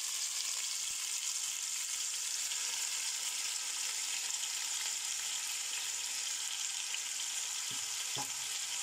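Onions sizzle steadily in a pan while a lamb and potato stew is started, a continuous bright frying hiss with a few faint utensil taps near the end.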